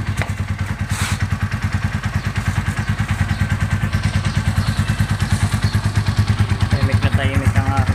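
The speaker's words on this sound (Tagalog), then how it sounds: "Tahimik ang aking makina." A Motorstar Z200S motorcycle engine runs close by at a steady, even idle, its rapid regular thumping pulses continuing throughout with slight mechanical clatter.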